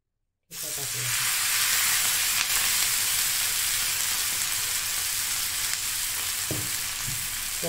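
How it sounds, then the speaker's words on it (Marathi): Three to four spoons of hot oil are poured over garlic and green chili thecha for tempering. A sudden, loud burst of sizzling starts and holds as a steady close hiss, with a few faint clatters. "आपण आता ठेच्याला फोडणी टाकूया"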